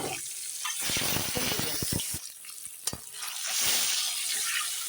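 Eggs dropped into hot oil with turmeric in a pan, a steady hissing sizzle with crackling pops and a few clatters, close and fairly loud with no talk.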